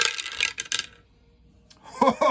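Dice clattering and tumbling for a Barbarossa board wargame, a quick rattling burst up close, then a short pause before a second clatter as speech resumes at the end.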